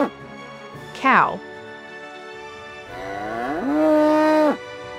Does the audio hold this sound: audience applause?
no